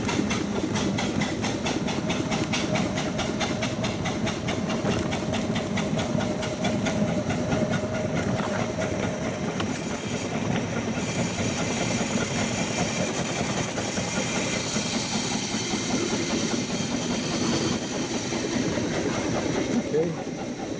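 A 1902 Curved Dash Oldsmobile engine runs in low gear with a steady, loud chugging, rattling mechanical rumble that carries on without a break from start to finish.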